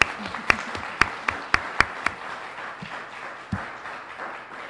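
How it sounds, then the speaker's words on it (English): Sparse clapping from a small audience at a sustainability symposium on energy, with a handful of sharp, distinct claps in quick succession followed by a couple of isolated ones over quiet room noise. "how about a round of applause for all three of them?"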